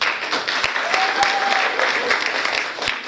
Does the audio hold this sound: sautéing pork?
no